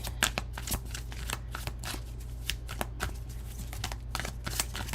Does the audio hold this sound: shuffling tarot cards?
yes